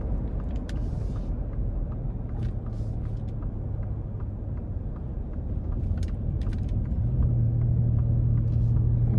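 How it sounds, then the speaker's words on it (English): A 2024 Ford Expedition King Ranch's V6 engine and exhaust hold a steady, loud rumble as the SUV accelerates onto an interstate, with the drone swelling near the end. "it just feels strong in terms of just the sound you get from the engine, the exhaust, all of that"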